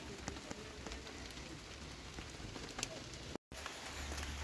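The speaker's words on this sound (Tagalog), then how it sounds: "Naulan ngayon dito guys." Steady rain patters on surfaces nearby, a constant soft hiss with scattered drips, faint and continuous throughout.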